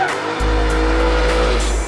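A race car roars past at full throttle on the final lap at a track, loud and close, with a steady engine drone and a hint of tire noise and no talking.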